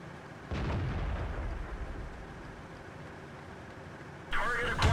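Tank gun fire on the Malinovka map in World of Tanks, one heavy boom early on followed by rumbling decay, then another sharp blast near the end, with someone commentating over the game audio.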